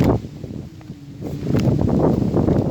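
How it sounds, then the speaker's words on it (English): Gusty wind buffets the microphone, rustling and rising in strength toward the end, with no voices. "Yes, it is windy, and it's the breeze are blowing."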